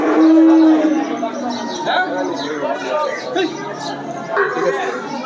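At a busy cattle market, a cow lets out a loud, close moo at the start. Further lowing follows amid crowd chatter and voices of people nearby.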